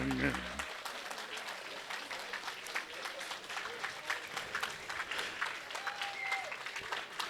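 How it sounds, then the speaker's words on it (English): Banquet audience at a Colorado sports hall of fame ceremony applauding an inducted champion, a steady wash of clapping across the room with faint voices mixed in. "Ladies and gentlemen, how about a big round of applause for champion Deborah Williamson."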